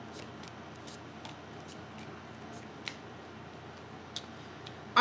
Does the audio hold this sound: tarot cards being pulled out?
yes